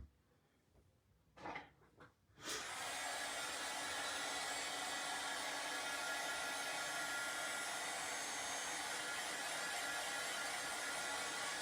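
A hair dryer blows steadily on a craft piece, its loud, even whoosh starting after a couple of brief handling knocks and then running unbroken to the end.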